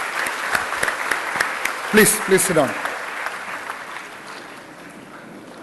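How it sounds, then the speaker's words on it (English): An audience at a 2019 B.Tech induction session applauds the parents in a steady round of clapping, with a speaker's voice heard over the applause as it fades. "Let's give a big round of applause to all the parents here."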